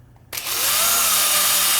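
A power drill driving screws into a back plate for an XTRXL installation, spinning up sharply after a brief quiet moment into a loud, close, rising whine that holds steady.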